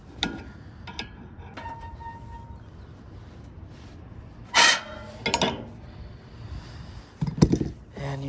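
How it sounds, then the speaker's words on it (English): A wrench cranking down to force out a stuck Carrier blower motor: scattered metallic clicks and ratcheting clunks with short louder bursts among quiet pauses, close by. "I can just start cranking down on this here, and the motor should start pushing out."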